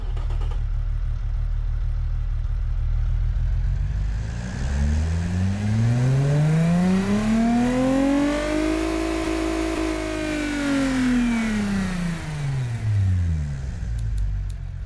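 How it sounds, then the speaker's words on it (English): A V6 car engine in the racing sim Automation, building from a low idle into a long rising rev that peaks and falls back down, loud and close, no voices. "let's give you a listen to this V6 engine for the first time using a V6 engine in quite a while"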